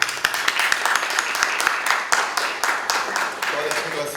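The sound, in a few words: applause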